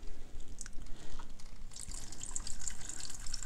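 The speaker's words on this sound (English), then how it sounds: "let's finish this wash with some cold water over here" Cold water trickles and splashes steadily through a plastic Hot Wheels toy car wash, a close, continuous faucet-like pour with small drips, no voices.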